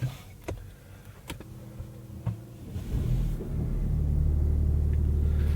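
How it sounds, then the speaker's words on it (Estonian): A Peugeot 408 facelift engine cranks and catches after a few clicks and knocks, then settles into a steady, close, low rumbling idle with no talk. "Panen mootori käima."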